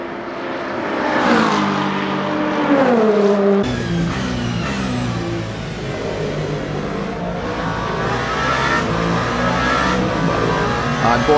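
Race cars storm through the Arnage corner at Le Mans in the Le Mans Ultimate sim, with GT3 traffic around, their loud engine roar climbing and shifting, a downshift midway, then a steady, dense drone as several cars pass close.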